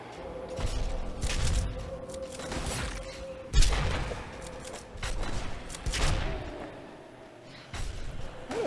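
Gunfire in the video game Drake Hollow: repeated bursts of shots and impacts over a steady hum, uneven in rhythm, with one sharp loud hit partway through.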